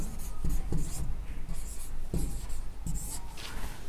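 Chalk or marker scratches quickly across a board in short, rhythmic strokes during a Hindi grammar lesson, close and fairly loud.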